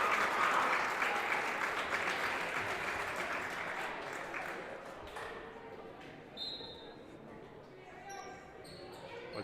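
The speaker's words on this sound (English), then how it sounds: "The Yellow Jacket faithful are going to give the starters a round of applause" Gym crowd at a girls' high school basketball game between Perham and Hawley applauding the starters, loud clapping at first that gradually thins and fades, with a few sneaker squeaks and voices in the background.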